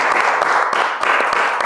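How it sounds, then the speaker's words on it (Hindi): A live audience claps loudly and steadily for a guest at the close of a talk show, with dense, continuous applause filling the room. "एक बार विक्रम कोचर साहब के लिए जोरदार तालियां हो जाए।"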